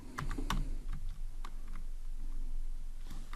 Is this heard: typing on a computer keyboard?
yes